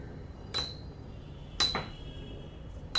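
Beyblade spinning tops clashing in a battle stadium, sharp metallic clinks and clacks at irregular intervals over a steady low whirring hum.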